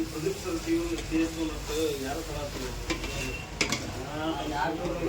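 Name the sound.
frying coriander leaves in oil for fish curry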